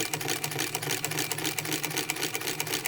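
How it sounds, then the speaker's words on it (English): A Weaver CUB sewing machine stitches through leather for a sword blade, a rapid, even mechanical chatter of the needle running continuously at close range. "I'm running a stitch right down the center of the blade of this leather sword"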